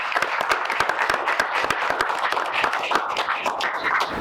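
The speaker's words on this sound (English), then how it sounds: "Give a round of applause for them." Audience applause at a tribal panel hosted by a tribe during a Las Vegas field tour, a dense patter of many hands clapping at steady loudness, with no voices over it.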